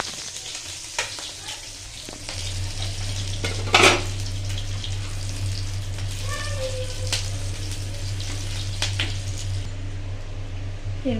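Hot oil sizzles and spits in a pan while cooking paneer butter masala, a continuous close frying hiss with sharp splatter bursts, occasional utensil clinks and a low steady hum beneath.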